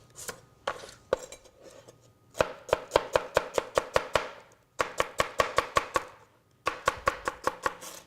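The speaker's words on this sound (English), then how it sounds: "So let's chop some celery real quick too." Sharp kitchen knife chopping celery ribs on a cutting board, fast even runs of crisp close knocks in three bursts with short pauses between them, no voices.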